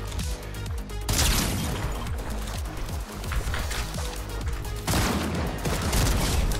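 Desert Eagle hand cannon gunfire in the Fortnite video game, a dense run of loud, rapid shots and impacts that stays close and heavy throughout, with a brief lull near the middle before the firing resumes.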